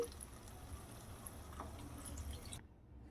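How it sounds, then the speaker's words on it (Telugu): Water trickles and splashes softly into a pan of raw prawn gravy curry for a few seconds, then stops abruptly into near silence. "కొంచెం వాటర్ కూడా యాడ్ చేసుకుంటున్నానండి"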